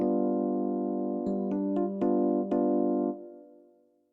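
Pattern from a Yamaha QY100 sequencer with a high note limit set at G: sustained synth tones with a few quick clicky note changes, ending in a fading tail, heard alone.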